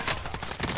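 Rapid automatic gunfire bursts in a first-person shooter video game, a dense continuous volley lasting under a second with no talk.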